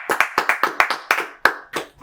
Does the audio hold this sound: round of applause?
yes